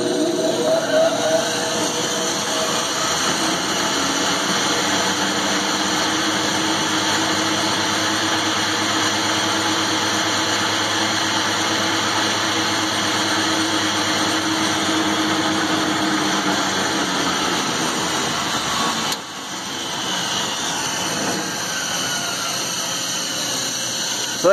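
Atlas/Craftsman metal lathe driven by a converted treadmill motor running wide open, a steady loud whirring machine hum with constant tonal whine that holds for the whole stretch, dipping briefly near the end.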